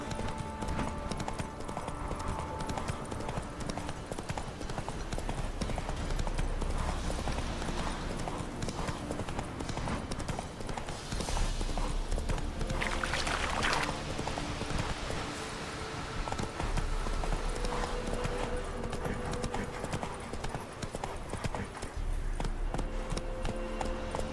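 Horse hooves clip-clop in a steady, continuous rhythm in The Witcher 3, fairly quiet, over a busy background of game ambience.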